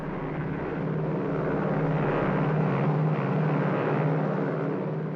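A propeller airplane takes off at night, a steady loud engine drone that holds evenly throughout with no talking.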